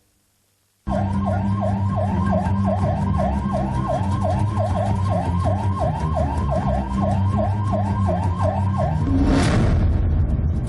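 A VIP car's loud wailing red-light siren cycles rapidly and continuously up and down, close by, with the steady rumble of a vehicle engine underneath.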